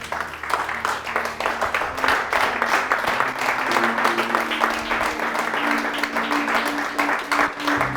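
A church congregation applauds and cheers during a sermon, steady dense clapping filling the whole stretch, with voices raised underneath and sustained tones from music or singing running below the crowd.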